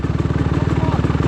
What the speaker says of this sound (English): CRF 250R dual exhaust. He sounds good.